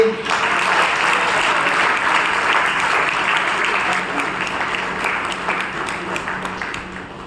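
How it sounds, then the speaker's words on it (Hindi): Sustained audience applause at a Brahma Kumaris talk on joyful living, a dense steady wash of clapping hands from a crowd, fairly loud and continuous, gradually easing toward the end with no clear speech over it. "तालियां जरूर बजाइए"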